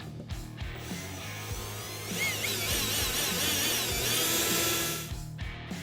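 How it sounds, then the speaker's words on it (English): A power drill enlarges a hole in the cubby of a Honda Talon 1000, whining steadily and rising in pitch as the bit cuts, close and fairly quiet, with no talking. "we're going to take a drill, we're going to go right here into the corner, and we're just going to open this hole up"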